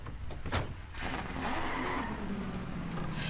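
Car driving and skidding in the game Just Cause 2 multiplayer, a steady engine roar with tire noise sustained loud throughout, after a short burst at the start.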